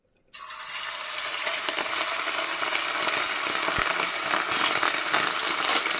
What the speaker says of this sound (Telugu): ముందుగా పక్కన పెట్టుకున్న ఈ మటన్ని కొద్ది కొద్దిగా ఫ్రై చేసుకుందాం